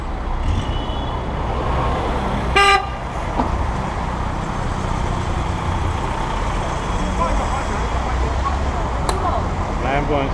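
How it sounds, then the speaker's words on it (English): City traffic in Harbin, China, heard from a bicycle, with steady engine and road rumble and a brief sharp horn toot standing out, plus another faint honk later. "Unlike the bus drivers honking."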